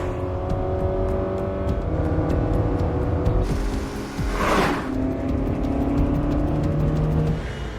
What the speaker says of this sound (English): it's actually the good old Pontiac Aztek, which Walt uses to smash the speed limit